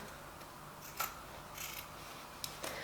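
Scissors snip through denim while jeans are trimmed into no-sew shorts, giving a few quiet, scattered cuts with a rough rasp and brief crisp clicks over a faint room hush.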